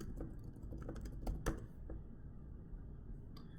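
Someone types a search on a computer keyboard, a quiet, quick run of key clicks up close that slows to a few scattered taps, with no talking.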